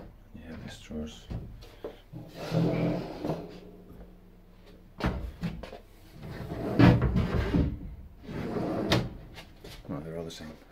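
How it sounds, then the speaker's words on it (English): Drawers in a wardrobe of a modern studio apartment are slid open and shut several times, giving wooden thuds and rolling scrapes in irregular bursts while a person talks over them. "And you have these drawers."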